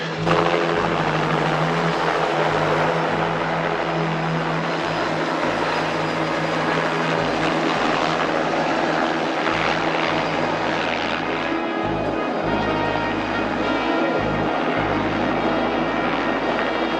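A propeller plane drones loud and close in an action thriller movie scene, a steady throbbing engine roar with a rhythmic prop beat that holds unbroken throughout, no talk over it.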